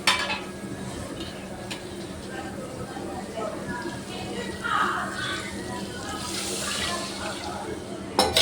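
Soaked tamarind water is poured onto vegetable pieces in a home kitchen, a soft continuous watery splash with light clinks of a vessel while someone talks over it.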